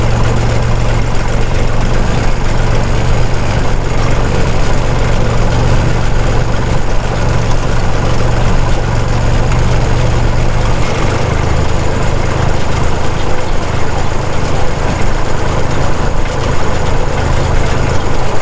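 A vintage tractor engine runs steadily at low rpm in high first gear while muck spreading, a loud continuous rumble close by with no talk, its pitch dropping slightly partway through.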